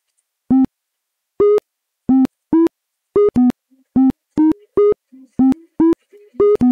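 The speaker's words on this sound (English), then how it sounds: "And sine wave." Sine wave tones play from an app in Windows 8 build 8102: a series of short, clean electronic beeps in an uneven rhythm, loud and clear against silence.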